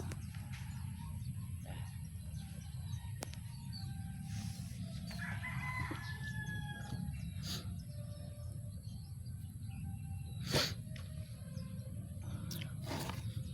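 Roosters crow faintly in the distance over a steady low background hum on a farm, with scattered clucks and short calls from tethered chickens.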